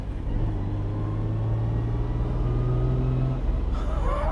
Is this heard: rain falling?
no